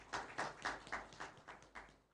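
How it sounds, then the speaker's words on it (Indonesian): Quiet, evenly spaced claps from a small audience at a Tribun Gayo news portal launch event, about eight sharp hits in a steady rhythm, heard at a distance. "Boleh tepuk tangan."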